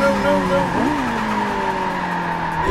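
A Renault Clio Williams in Forza 7 slides with a sustained tonal tire squeal while oversteering, the screech bending in pitch over a steady engine drone, loud and close.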